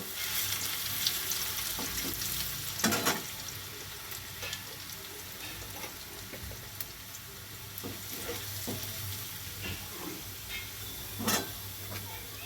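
Paneer fries and sautés in a pan with capsicum, onion and green chillies for chilli paneer, a continuous oily sizzle broken by occasional louder stirring scrapes and clatters, with no talking.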